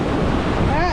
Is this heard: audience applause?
no